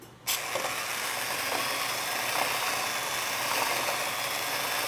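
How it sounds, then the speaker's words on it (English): A handheld electric mixer running steadily in a bowl, blending black beans into brownie batter; a steady mechanical whir starts abruptly after a brief silence and holds at an even level throughout. "I'm going to go ahead and mix these together."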